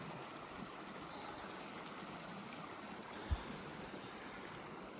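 Resplendent Creek and Moose River rush together in a steady broadband roar of water at their confluence, heard from nearby along a backcountry hiking trail, with one brief low thump partway through.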